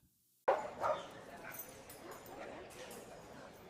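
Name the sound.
dog barking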